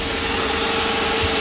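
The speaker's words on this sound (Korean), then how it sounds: "약간 뭔가 그렁그렁 거려. 엔진이 안 좋죠, 소리가." A 2.3-litre Samsung SM7 car engine idles steadily and a little roughly, a continuous low rumble with a faint uneven throb, close by and with no talking.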